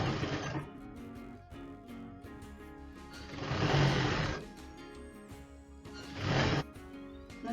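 A sewing machine runs in short bursts while flat-stitching non-woven bag straps, its rapid mechanical whir rising and stopping three times, close and fairly quiet, with no voices.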